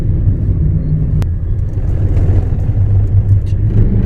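A car drives along the road at the start of a journey, a steady loud low engine and road rumble from inside the cabin with one brief click.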